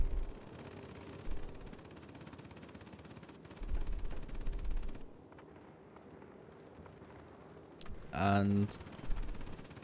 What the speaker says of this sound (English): There's the top turret firing.